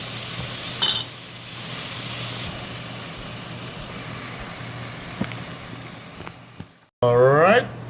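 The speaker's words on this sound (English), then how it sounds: "Onion, garlic. fry that up until it's a little translucent." Onion and garlic sizzle in a pan where beef short ribs were browned, a steady close frying hiss with a few stirring clicks, then cut off abruptly and followed by a different, louder burst at the end.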